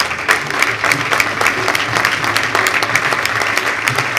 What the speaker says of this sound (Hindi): मैं आप सबकी तालियों में आगरा ग्रुप ऑफ रेस्टोरेंट के मोहतरम जनाब असलम साहब से दरख्वास्त करूँगा कि वो यहाँ तशरीफ़ लाएँ।